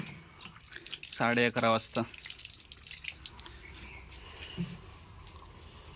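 Tap water runs steadily in the background while someone speaks briefly near the start; a soft trickling hiss continues after the talking stops.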